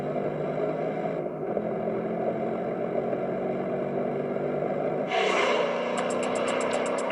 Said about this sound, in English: The way this V8 revs out, it feels free, and I like the way the power swells in the high RPMs.